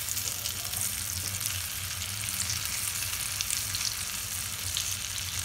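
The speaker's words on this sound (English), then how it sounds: "Now let them fry for a while." Eggplant slices sizzle and crackle steadily in a hot pan, a constant close frying hiss with no talking.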